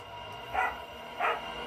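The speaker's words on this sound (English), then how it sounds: "You hear my dogs in the background." Dogs bark in the background, two faint, brief barks spaced about half a second apart over a steady low hum, with no talking.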